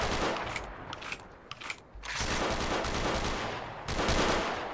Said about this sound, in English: There's someone else shooting over there.